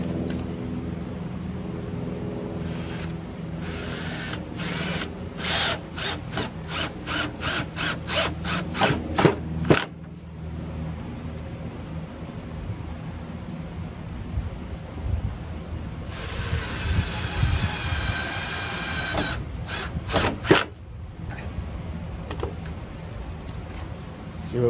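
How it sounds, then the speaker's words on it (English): Power drill driving special screws into wardrobe cabinet rails, heard as short repeated whirring bursts in quick succession, then a longer sustained run and a few more brief pulses, close in a quiet room. "the next thing is to change the bit that has the special bit that fits these special screws that go in here"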